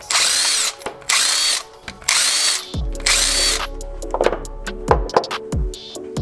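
A power tool spins out the four 12mm crank pulley bolts on an Evo 4G63, with several loud whirring bursts and one longer low-humming run, then quick clicks and clinks of parts being handled close by.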